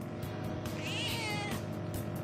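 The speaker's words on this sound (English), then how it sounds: "Why is there cat noises?" A cat meows in Persona 5 Royal, a single drawn-out, wavering mew over steady game background sound, clear and up front with no talking.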